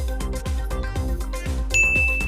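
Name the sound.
doorbell ringing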